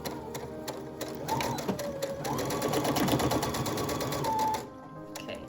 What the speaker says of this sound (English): Okay, and then you just keep on sewing down.